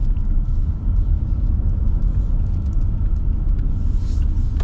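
A 2025 Ram 3500 Big Horn with the high-output diesel accelerates, a steady, loud low rumble of engine and road noise heard from inside, with no talking.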